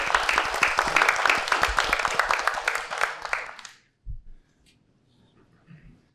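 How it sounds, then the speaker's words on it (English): Big round of applause from an event audience for the sponsor mBank, dense sustained clapping lasting about four seconds before cutting off, followed by a couple of faint thumps and handling noises. "Big round of applause for mBank."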